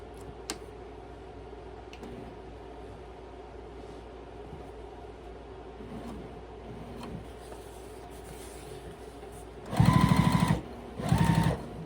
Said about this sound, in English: line up the edges and then stitch down that side